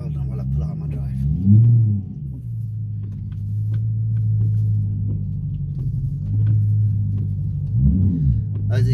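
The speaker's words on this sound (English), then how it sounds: "hold on while I pull out my drive" A BMW M3 E92 idles with a deep, steady engine rumble as it pulls out of a driveway, with brief revs rising near the start and again near the end.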